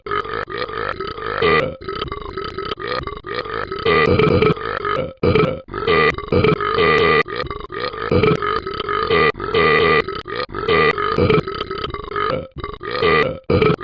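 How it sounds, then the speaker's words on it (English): Long, loud, repeated burping from the Talking Ben game, a run of deep drawn-out belches close up with brief pauses between them and no talking. "this is the part 3 of the burping challenge"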